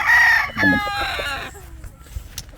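A rooster at a gamefowl farm crows loudly and close, one drawn-out call followed by a few softer clucks in an outdoor setting.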